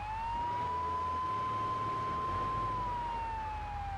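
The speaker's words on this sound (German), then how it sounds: "mit Sirene kommt man nicht unbedingt besser durch" An emergency vehicle siren in the GTA 3 Definitive Edition video game, a steady wailing tone that rises and falls slowly over a low engine rumble, heard alone at moderate distance.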